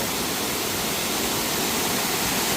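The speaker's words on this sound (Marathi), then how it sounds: "तर धबधबो बघून मजा येईल मित्रांनो" A waterfall in the Konkan region of Maharashtra roars as a dense, steady wash of rushing water, loud and close, unbroken across the whole moment with no voices.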